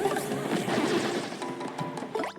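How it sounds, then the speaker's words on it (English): Cannons firing Bullet Bills in the Paper Mario: The Thousand-Year Door video game, a dense run of smashing, thwacking impacts and booms layered with game music, loud and continuous throughout. "cannons shooting out bullet bills"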